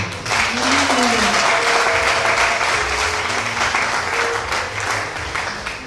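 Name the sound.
congregation applauding in church service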